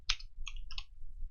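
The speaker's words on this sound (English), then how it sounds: "we can start typing his name" Soft, close keyboard typing, a few scattered quiet key clicks in quick irregular succession over low background hum.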